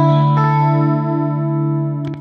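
A heavy preset from a free audio effect plugin colors a sustained, harmonically rich tone with distortion and chorus-like thickening, holding steady for about two seconds before a brief flutter at the end; no talking.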